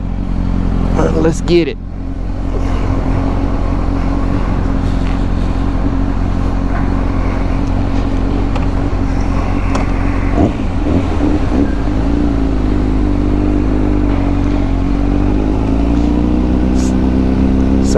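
A 2007 Honda CBR 1000RR engine idles loudly and rumbles up close, with a sharp blip of revs early on and a throttle rise around the middle, while someone speaks briefly at the start.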